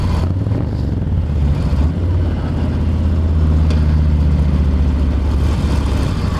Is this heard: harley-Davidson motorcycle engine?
yes